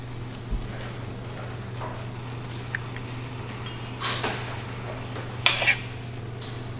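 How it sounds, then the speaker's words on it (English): A utensil knocks and scrapes against a pot of rice noodles a few times, sharp metallic clinks over a steady low hum of boiling water. "I'm just going to give it a bit of a stir so they don't stick together."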